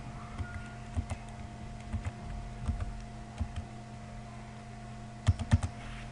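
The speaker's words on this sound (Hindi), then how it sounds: "ये ही बेसिकली कैप्चा कोड होते हैं जो मैं अभी टाइप करने लगा हूं।" Typing captcha codes on a computer keyboard, scattered clusters of quick key clicks with pauses between them over a steady electrical hum, no talking.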